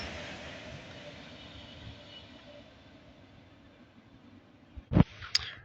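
A Class 390 train, unit 390 050, runs past on the West Coast Main Line at Bletchley on its way from Liverpool to Euston, giving a steady broad rumble with rail noise. A sharp loud horn-like burst sounds near the end.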